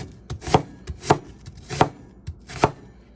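A knife chops a yellow onion on a board in five sharp, evenly spaced thuds, each a crisp close strike with quieter small taps between them.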